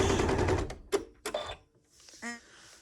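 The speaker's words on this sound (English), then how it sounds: "back stitch a couple stitches, so I back stitch." A sewing machine stitching quilt pieces runs in a quick burst of rapid stitching, then a few short separate clacks as it backstitches, followed by quiet handling noises.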